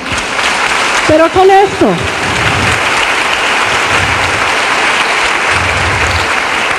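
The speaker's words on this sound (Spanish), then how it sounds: "Un aplauso al Señor." A church congregation claps steadily in a loud sustained round, with a brief spoken phrase from the preacher cutting in near the start.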